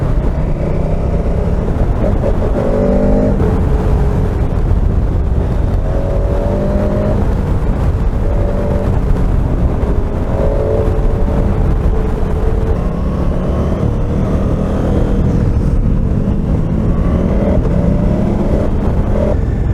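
A 2021 KTM 1290 Super Adventure R motorcycle engine drones continuously while riding, pitch rising and falling as it revs through gears, with steady wind rush over the microphone.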